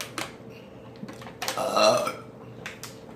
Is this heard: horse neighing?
no